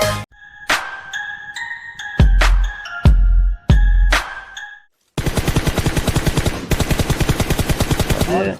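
PUBG Mobile game gunfire: several sharp single shots ring out with metallic ringing tones, then a rapid sustained burst of automatic fire, loud and close.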